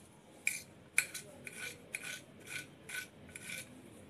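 Knife chopping eggplant into small cubes on a board, about eight evenly spaced crisp cuts in quick rhythm, close and fairly quiet.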